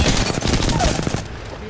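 Rapid automatic gunfire in Apex Legends, dense overlapping bursts of shots fired close and loud for nearly two seconds, then thinning out slightly toward the end.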